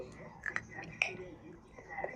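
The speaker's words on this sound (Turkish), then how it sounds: "Üzerinde şekerler de olduğu için Melisa kıtır kıtır yiyor" A child crunches on homemade Christmas-tree-shaped chocolate topped with sugar sprinkles, with a few faint, close crisp bites standing out against quiet whispery background noise.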